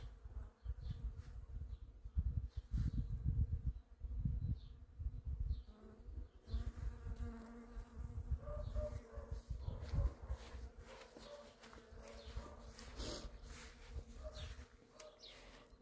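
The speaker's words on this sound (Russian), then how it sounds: "Пчел сколько." A large swarm of bees buzzes steadily and close by around a cherry tree outdoors, a dense continuous drone throughout, with a few faint bird chirps in the background.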